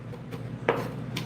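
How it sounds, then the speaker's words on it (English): A knife chops carrots, pimento, garlic and celery for fried rice, with one clear crisp chop on the board among a few fainter taps, against quiet kitchen background. "I'm chopping here carrots, pimento, garlic,"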